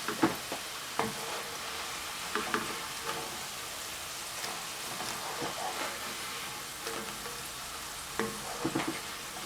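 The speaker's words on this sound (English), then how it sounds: "I'm just frying these for about 4 to 5 minutes" Green plantain chips fry in hot oil with a steady crackling sizzle, punctuated every second or so by sharper bursts as pieces are stirred or shifted in the pan; no voices.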